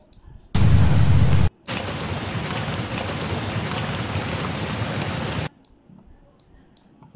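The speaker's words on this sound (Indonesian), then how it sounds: "Macam aku nak tambah efek bunyi hujan." Loud hissing rain noise starts abruptly, cuts out for a moment, then returns steadily before stopping sharply, leaving faint clicks and quiet.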